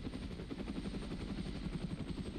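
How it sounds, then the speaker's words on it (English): Helicopter circling overhead in the military game Arma: Resistance, a steady rhythmic rotor chop with continuous engine drone, fairly distant and even in level throughout. "The helicopter keeps doing loops"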